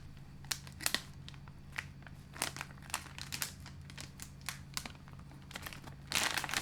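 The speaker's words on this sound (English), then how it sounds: "Bag, fairly easy tear there." A bag of Mingua Original meat snack crinkling and tearing open up close, a series of sharp crackly plastic bursts at uneven intervals, with a louder crumpling rustle at the end and no one talking.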